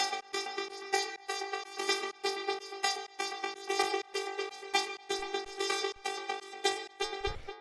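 A progressive techno synth lead repeats a single G in short, evenly spaced pulses, bright and buzzy, with a steady rhythmic pattern and no talk.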